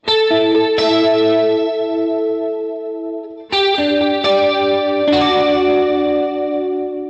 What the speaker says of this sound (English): using the left foot switch is going to engage the reverb and the modulation